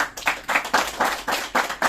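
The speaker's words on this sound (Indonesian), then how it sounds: "Tepuk tangan dulu." A small group claps hands together in a brief, quick round of applause, fairly close and loud.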